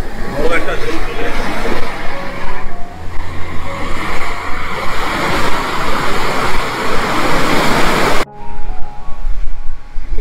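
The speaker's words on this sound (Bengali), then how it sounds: "এখানে কিন্তু সমুদ্রের গর্জনটা কিন্তু শুনতে অভূতপূর্ব লাগছে।" Sea waves roaring on a lonely beach along New Marine Drive, a loud continuous rushing surf that swells and falls and fills the whole clip.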